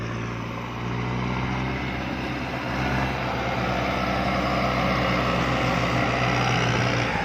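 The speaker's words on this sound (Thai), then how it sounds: "รถไถคูเปต้า MU 5702นะครับ" A Kubota MU5702 farm tractor's diesel engine runs steadily and loud throughout, with a constant low droning hum and no speech.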